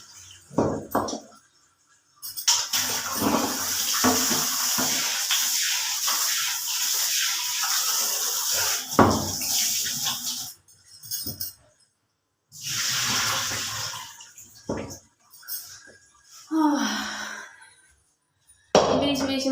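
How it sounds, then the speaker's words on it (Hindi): Tap water gushes out in a heavy flow, loud and close, coming in several long bursts that stop and start again with short quiet gaps between them. "पानी बहुत हैवी फ्लो में चल रहा है भाई।"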